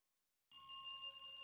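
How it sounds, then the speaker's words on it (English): A telephone bell rings inside a video game, Dread Weight, starting abruptly after a short silence and then holding as a steady, loud, bright ring echoing down a hallway. "The ringing echoes down the hallway."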